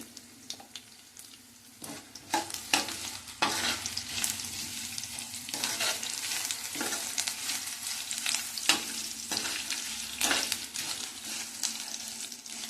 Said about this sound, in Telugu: ఈ పోపులు మాడకుండా దోరగా వేయించుకోవాలండి